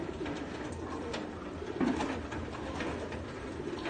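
Pigeons at a racing-pigeon auction coo softly in a steady low murmur, a continuous close flock sound with a slightly louder cluster of coos near the middle and no talking over it.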